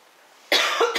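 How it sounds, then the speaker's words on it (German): A single loud, close cough bursts out of near silence, a harsh burst with a second short push at the end. "mein Husten ist immer noch ein bisschen da"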